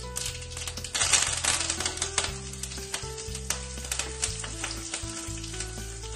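Crushed curry leaves fry in hot oil in a kadhai, along with mustard seeds and cumin, giving a steady crackling sizzle with sharp pops throughout. No voices are heard.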